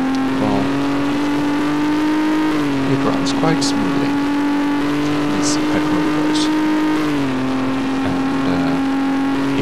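A Volvo 940 petrol inline-six engine idles and runs smoothly in the game Garry's Mod, a steady mechanical drone with slight pitch shifts, heard beneath someone talking.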